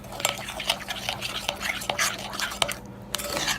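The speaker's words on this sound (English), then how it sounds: "So I'm just going to mix this all in." Egg and vanilla being mixed by hand for white chocolate cranberry cookie dough, a quick series of soft scraping and clicking utensil strokes against a bowl, close and moderately loud, without speech.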